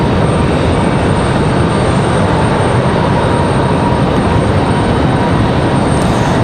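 A Delta airliner takes off at Raleigh-Durham airport, its engines a loud, steady, broadband roar heard from a distance, with no voices over it.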